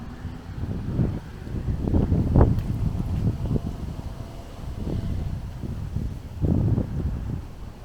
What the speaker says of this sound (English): here you can see that it's actually pretty windy now.